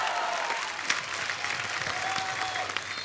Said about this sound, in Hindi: जोरदार तालियां गोविंदा सर और सुनीता मैम के लिए